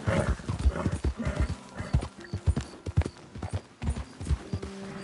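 Horse hooves clip-clopping at a gallop in Red Dead Redemption 2, a steady rhythmic drumming of hoofbeats close by, with a brief whinny.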